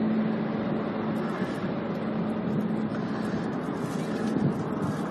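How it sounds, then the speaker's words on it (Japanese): A steady low mechanical drone with a constant hum from a helicopter flying over Kabukicho, Tokyo, heard at a distance, continuous and fairly loud for the whole stretch. "ヘリコプター飛んでるのそれか。"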